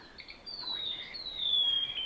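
Recorded bird call played outdoors to lure birds into a net, a thin high whistling tone sliding slightly downward, fairly clear over quiet background.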